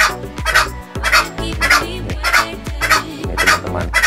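Green junglefowl breeding stock at a small backyard farm, calling loudly and repeatedly in short rhythmic bursts, several birds close by with overlapping crows and clucks.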